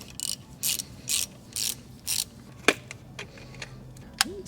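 A ratchet wrench working 3mm Allen bolts on the valve covers of a BMW E31 engine, giving a series of short, sharp clicking bursts at a fairly steady pace, followed by a single louder metallic snap and a few scattered clicks, close and clear.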